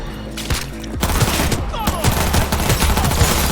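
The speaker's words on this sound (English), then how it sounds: "Heard shots." Loud, close rapid gunfire from the video game Cyberpunk 2077, with dense bursts of automatic fire and shots that continue through the whole stretch, and a voice heard briefly near the start.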